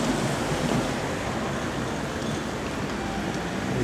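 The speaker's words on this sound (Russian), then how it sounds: "Так, вот у нас пляж." Waves wash onto a sandy town beach at St. Julian's, Malta, out of season, a steady rushing surf noise mixed with wind and distant traffic, with no talking.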